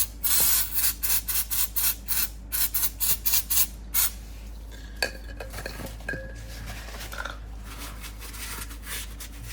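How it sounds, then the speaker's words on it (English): A rapid series of short brake cleaner aerosol spray bursts on a Jeep Grand Cherokee WK2 transfer case, close and loud, followed by quieter clinks and rustling. "Now we'll get a can of brake clean and spray things down"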